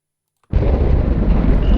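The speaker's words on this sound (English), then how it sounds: "Oh, that's the thunder sound." Thunder sound effect for an audio drama: after half a second of silence, a sudden loud rumbling crack hits and rolls on as a sustained, heavy low roar through the rest of the clip, with no voices.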